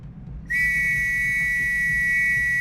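A child's toy whistle in the video game The Last Express, one long, piercing, steady shrill tone starting abruptly after a brief quiet moment and held to the end.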